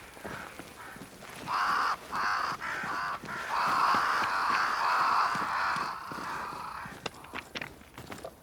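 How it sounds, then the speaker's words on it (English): Crows caw near a great tree in the game Banishers: Ghosts of New Eden, giving a series of harsh, loud calls in bursts over faint footsteps, then trailing off into sparse clicks. "Crows. They flock to that great tree up there."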